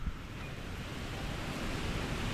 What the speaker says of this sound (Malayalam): ഭയങ്കര കാറ്റ് ഏകദേശം.